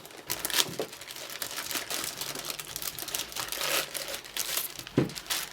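A plastic bag sealed around a Mackie Big Knob passive studio monitor controller is cut open, a close, continuous crinkling and tearing of plastic with a few sharper snaps, and no talking.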